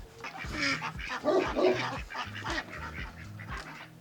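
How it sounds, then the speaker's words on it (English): Several ducks at an animal resort quack in a loud, close, overlapping chorus of short nasal calls, repeating in quick uneven bursts. "We got these ducks over here."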